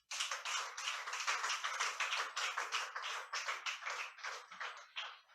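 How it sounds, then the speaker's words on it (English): A small audience at a speaking event claps steadily after a talk, a close, crisp patter of individual hands that pulses unevenly and stops abruptly. "Please, another round of applause."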